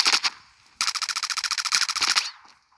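Rapid automatic gunfire in the mobile shooter Standoff 2 during a competitive match: a short burst, a pause, then a long steady stream of evenly spaced shots, loud and close, with no talking.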